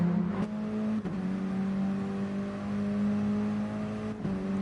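Mini Cooper race cars lapping Sardegna Circuit in a cup race, a steady loud engine drone with brief dips where cars shift or pass close by, continuous throughout with no talking.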